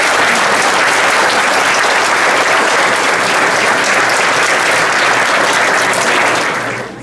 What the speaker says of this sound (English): I want to give Scott a round of applause